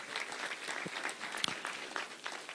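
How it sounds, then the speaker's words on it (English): Audience clapping for a Kenyan Olympic gold medalist who won both the 5,000 and 10,000 meters, at a state lodge reception in Eldoret; steady, fairly soft applause from a crowd, continuous throughout with scattered louder claps. "Let's give a hearty"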